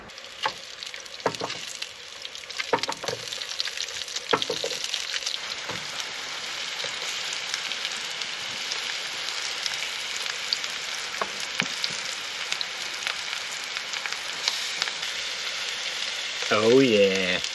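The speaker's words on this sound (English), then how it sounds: "Just gonna have it with some fried eggs, some fried mushrooms" Eggs, mushrooms and an old courgette frying together in a pan at a Norfolk coast holiday park, a continuous crackling sizzle like light rain, with a few louder pops and a brief clatter near the end.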